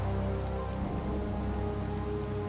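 Steady rain patters on a surface close by, an unbroken wash of fine drops with a faint low hum underneath.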